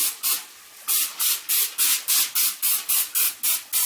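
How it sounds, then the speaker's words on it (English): Rapid series of about a dozen short aerosol bursts of Pam cooking oil spray onto a pan, each hissing puff clear and close, steady rhythm with brief gaps, no talking. "So make sure you coat them with some Pam."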